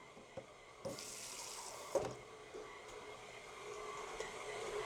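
Water runs from a tap into a container in a kitchen while bread is being made, a steady hissing flow that starts about a second in and continues to the end, with a few light knocks.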